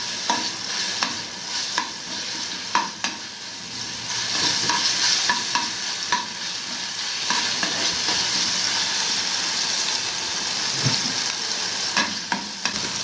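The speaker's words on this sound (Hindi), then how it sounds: "इसके लिए 3 चम्मच ऑयल के, तो इसमें हम थोड़ा सा लहसुन पिसा हुआ सॉस के लिए" Crushed garlic frying in three spoons of oil for a ketchup-based shashlik sauce, a steady close sizzle with stirring clatters and spoon taps throughout, no talking.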